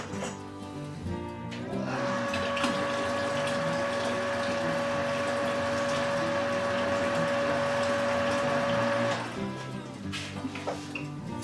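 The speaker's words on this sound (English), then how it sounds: "Let me just give her a squirt of hot water." Hot water squirts into a whiskey mash of apple and rye: a steady pumped gush with a constant mechanical hum that runs for about seven seconds before cutting off, with quieter sounds before and after.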